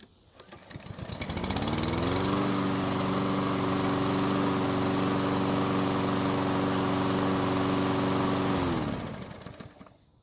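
A Toro lawn mower engine, started while already hot, catches and runs at a steady, loud drone with strong harmonics for about seven seconds, then dies away.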